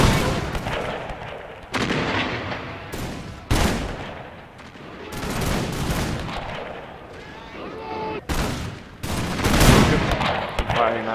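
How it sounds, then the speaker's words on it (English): Repeated musket volleys in Napoleon: Total War, sharp booming bursts of massed gunfire at irregular intervals, loud and close, with shouted voices between the shots. "Keep firing, lads. Keep firing, gentlemen."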